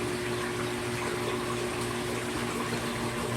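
Water pours and gushes steadily into an aquarium sump, a constant splashing rush over a low mechanical hum.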